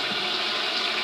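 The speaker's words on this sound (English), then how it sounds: "so what I'm going to do is just rinse off the glove." Running tap water splashes steadily over a medical glove as it is rinsed, a close, continuous broadband hiss of water with no talking.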